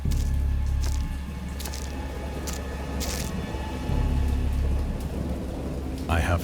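Heavy rain pours steadily in a thunderstorm in the Dagon game, with low thunder rumbling through it and a few sharper crackles, fairly close and dense throughout.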